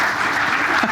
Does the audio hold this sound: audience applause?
yes